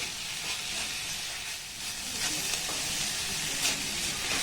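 Vegetables frying in a pan and gently stirred, a soft, even hiss of sizzling with faint scrapes and clinks now and then, moderately quiet, no voices.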